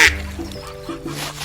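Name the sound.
duck quacking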